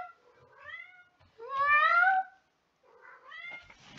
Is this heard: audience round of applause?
no